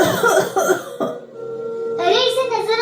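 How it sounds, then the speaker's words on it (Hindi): An animated character coughs in several harsh bursts, with a short spoken exchange in between. "ये कैसी खांसी है?"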